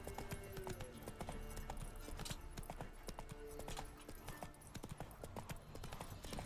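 Roach the horse's hooves clip-clopping in The Witcher, a steady rhythmic trot of hoof falls on a road, close and continuous, with game background sound underneath.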